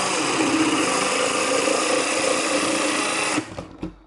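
A power saw runs with an air blower going full blast while cutting holes for a custom charger, making a loud steady buzzing whir that stops abruptly, then a couple of brief bumps.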